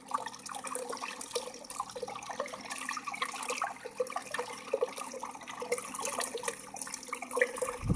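Water tipped from a pail into a tub makes a continuous splashing, gurgling rush that stays fairly quiet and unbroken throughout.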